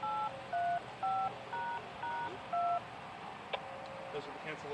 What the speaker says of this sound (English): Those are the cancellation tones.